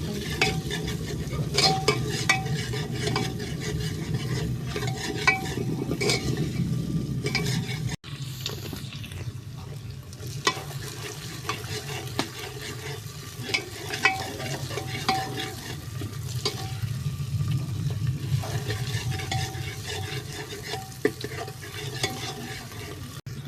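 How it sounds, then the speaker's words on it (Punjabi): Cauliflower being tempered and fried in a pan, a continuous sizzle with repeated stirring and scraping throughout, no voices. "ਇੱਥੇ ਆਪਾਂ ਬਣਾਉਂਦੇ ਆ ਗੋਭੀ ਨੂੰ ਤੜਕਾ ਲਗਾਉਣਾ"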